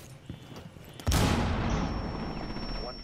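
A loud burst of gunfire in the tactical shooter Rainbow Six Siege erupts after a quiet moment, then trails into a sustained rumbling wash with a high ringing tone.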